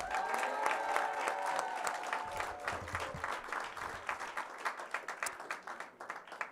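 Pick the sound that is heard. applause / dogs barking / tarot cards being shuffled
applause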